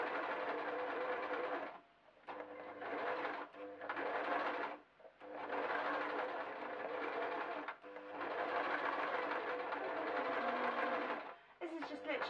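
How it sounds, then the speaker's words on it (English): A sewing machine stitches around the edge of two circles of cloth, running in steady whirring bursts with short stops between them, close and fairly loud. "I'm just sewing around the outside"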